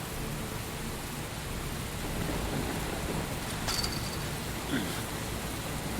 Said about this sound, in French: Cette pluie battante.